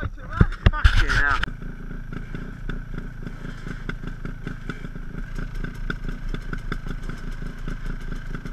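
A motorcycle on a new battery struggles to start. A clatter and a shout come first, then a close, steady, rapid cranking chug that repeats without catching.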